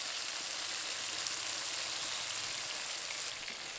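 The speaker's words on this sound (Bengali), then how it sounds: "আদা রসুন বাটা দেওয়ার পর কিছুক্ষণ ভালো করে ভেজে নিয়েছি" Ginger garlic paste fries in a pan for a Bengali magur fish curry, giving a soft, steady sizzle that holds evenly throughout and eases slightly at the end, with no talking.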